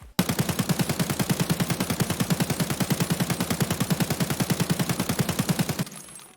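Automatic gunfire from a 60-round magazine rifle in a video game fires as one continuous, loud, rapid and evenly spaced burst lasting almost six seconds, then stops abruptly.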